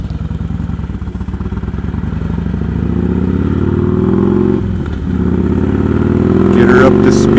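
A motorcycle accelerating up to speed toward an interstate, its engine note rising steadily in pitch with a brief dip during a gear change, heard from the rider's position with wind noise and a voice briefly at the end.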